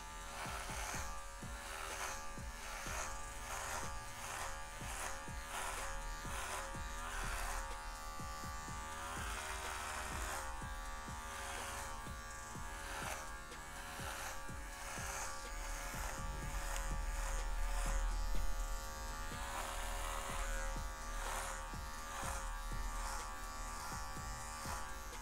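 An electric hair clipper fitted with a number 6 guard buzzes steadily and close while taking down the top of a Jaca-style haircut, a continuous drone running the whole time with no talking.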